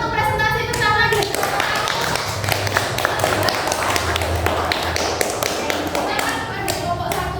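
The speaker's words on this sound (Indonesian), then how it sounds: "Beri tepuk tangan untuk presentasi bersama dari" A high school class claps for a group presentation, a dense patter of many hands that runs the whole time while voices talk over it.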